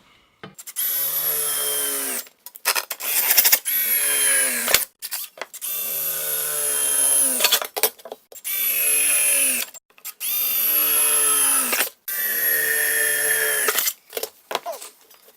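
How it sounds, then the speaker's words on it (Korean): A power drill bores a pilot hole with a standard bit before the hole is widened with a step bit, running in several sustained whining bursts of a second or two each, separated by short pauses, loud and close with no talk. "드릴날로 뚫어 주겠습니다."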